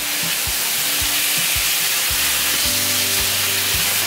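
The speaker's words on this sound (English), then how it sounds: "And stir fry for about 30 seconds." Tocino sizzles loudly in a hot pan with salt and pepper, a spatula thumping and scraping the pan every half second or so over a dense, steady frying hiss.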